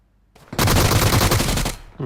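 A sustained, dense burst of rapid gunfire in PUBG Mobile on the snow map Vikendi, loud and close, rattling for over a second before cutting off abruptly.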